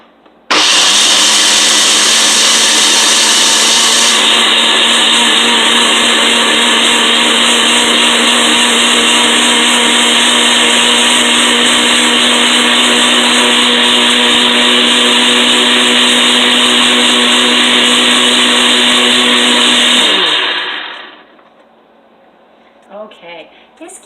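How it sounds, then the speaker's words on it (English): A blender whirs loudly and steadily as it processes cashews with water into a smooth base for plant-based gravy, its pitch shifting slightly partway through before the motor winds down and stops near the end. "we're just going to process this until the cashews are smooth"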